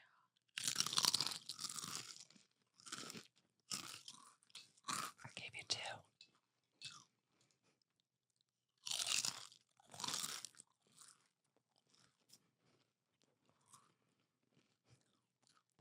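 Close, loud crunching and chewing of taco-flavoured Quest protein chips, dense bursts of bites and chomps with pauses between them, with a brief spoken remark and some whispering.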